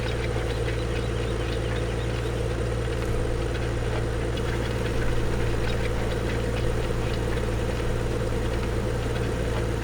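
Fendt tractor engine driving in Farming Simulator 2015, a steady continuous drone with a strong low hum, holding an even loudness throughout with no talk.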